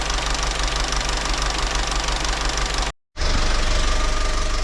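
Vauxhall Corsa C engine idling with a noisy timing chain, a steady close rattling and ticking knock over the running engine, cut by a brief dropout of silence before resuming slightly louder.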